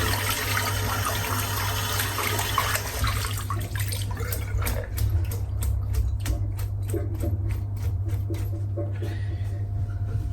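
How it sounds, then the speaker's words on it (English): Running tap water splashes over a Semogue boar shaving brush as it is rinsed. A broad, steady rush fills the first few seconds, then thins into quieter trickling with light rhythmic ticking. "Rinsing the brush out."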